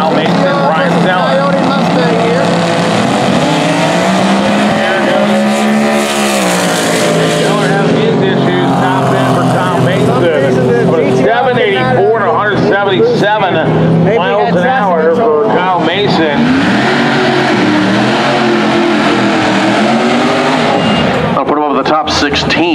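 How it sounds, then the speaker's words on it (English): Race cars at a drag-racing event at Maryland International Raceway, including a Fox Body Mustang, roar loudly with rising and falling engine pitches as they launch and accelerate, while a voice talks over the din. "So they got a Super versus a Fox Body Mustang here, and then Ruby's up next."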